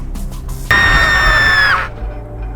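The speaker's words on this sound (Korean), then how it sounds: "방금 비명은? 설마 죽 죽은 건가?" A loud, sustained scream rises over quiet ambient hum at night inside a tower setting, holding for over a second before breaking off abruptly into low background noise.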